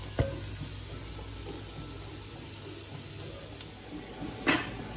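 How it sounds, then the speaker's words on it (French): Cabbage and shallots fry in a pan, giving a quiet, steady sizzle with a couple of sharp clinks from a utensil against the pan. "j'ai fait griller un peu les choux avec les échalotes"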